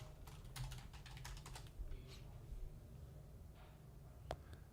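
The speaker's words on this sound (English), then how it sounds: "I'm just going to type this in." Typing on a computer keyboard, quick clusters of soft clicking keystrokes followed by a few isolated taps, quiet and close with no talking.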